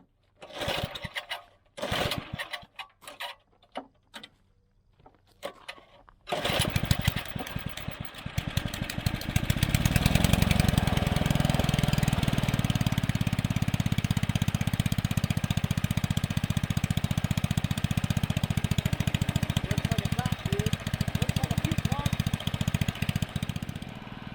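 Old John Deere 56 riding lawn mower's small engine, sitting for decades, after a carburetor cleaning: a few sputtering attempts, then it catches and runs steadily and loudly at a fast idle for the remaining time.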